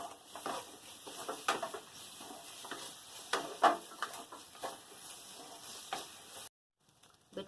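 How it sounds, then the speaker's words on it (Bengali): Chili powder, turmeric and tomato fry in a masala as it is cooked down, with a soft sizzle broken by intermittent scraping and stirring clicks, fairly quiet, before a sudden drop to near silence. "লঙ্কা গুঁড়ো, হলুদ গুঁড়ো, টমেটো একটা দিয়ে ভালো করে মশলাটা কষিয়ে নেব।"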